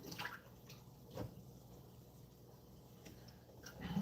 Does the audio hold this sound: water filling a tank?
yes